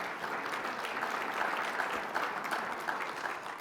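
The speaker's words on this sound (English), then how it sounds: "give yourselves a round of applause" Steady applause from a sizable crowd at a U.S. Conference of Mayors winter meeting plenary session, a dense even wash of clapping that holds at the same level throughout.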